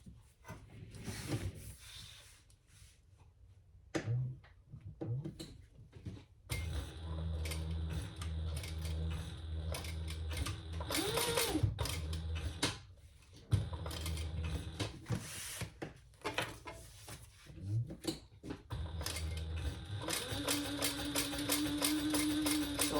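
A sewing machine stitches over the same seam on a crossbody bag, running in bursts of fast mechanical ticking and whirring, with brief pauses between runs, close up and with no talk.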